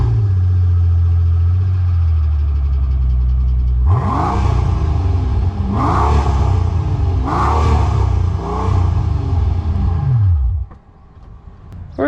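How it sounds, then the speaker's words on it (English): A 2008 Mercedes-Benz CL65 AMG coupe with quad exhaust tips rumbles at a loud, deep idle, then is revved sharply three or four times in quick succession, each rising roar falling back, before the engine cuts off abruptly. "this car makes one heck of a sound when you start it up"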